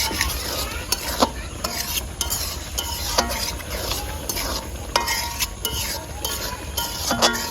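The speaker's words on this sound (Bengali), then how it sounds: "এখন আমি ভুড়িটা কষাইতেছি।" Beef tripe frying in a pan is stirred repeatedly, a constant oily sizzle broken by regular scraping and clinking strokes of a utensil against the pan.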